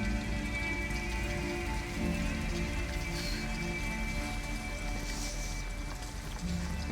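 Steady rain falls in the Detroit: Become Human video game, an even, dense hiss of drops on surfaces with no voices.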